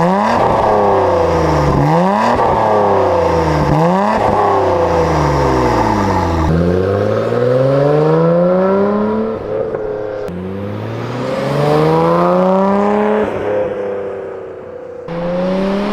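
Nissan R33 GT-R engine fitted with an HKS exhaust, revved repeatedly in loud rising and falling sweeps, several sharp blips followed by longer climbs and drops, close and alone.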